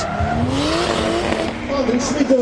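A 1,000 horsepower BMW drift car at a Drift GP competition at the Hungaroring roars away under hard acceleration, its rising engine note climbing through the gears with tyre noise, loud and close, while a commentator talks over it.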